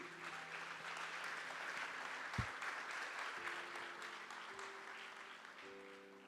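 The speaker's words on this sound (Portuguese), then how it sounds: "Dê sua melhor salva de palmas então para Deus" A church congregation applauds during a Sunday morning service, with soft, steady clapping over faint sustained keyboard-like tones and a single sharp thump partway through.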